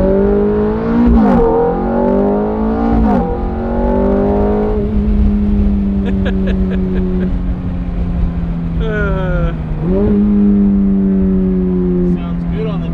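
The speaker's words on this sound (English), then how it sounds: "Sounds good on the downshift." A Ferrari F430 Spider engine revs sharply on downshifts, with rising and falling tones and blips heard close from inside the car over road noise, while people talk.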